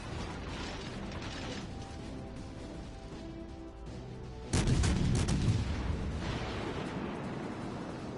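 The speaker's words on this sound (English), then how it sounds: "Oh shit, he's firing at me again." An enemy warship fires its guns in World of Warships: a mechanical engine hum runs steadily until a sudden loud, booming salvo bursts in midway, its heavy rumble lingering and slowly fading.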